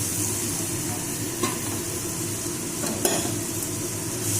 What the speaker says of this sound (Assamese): এতিয়া মাছ আৰু ভাজি থোৱা বেঙেনাটো দি দিছোঁ।